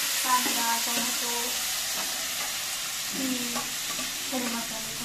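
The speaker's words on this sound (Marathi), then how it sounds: "इथं आता हे मी गरम तेलात परतून घेते" Spice masala of onion, tomato and whole spices fries in hot oil with a continuous sizzling hiss and soft stirring, while someone talks over it.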